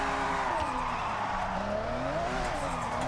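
Drifting car in Forza Horizon driven on a wheel, with a clutch kick pushing the engine into a loud, wavering rev and continuous tire squeal as the car slides, close and dominant, with no talking over it.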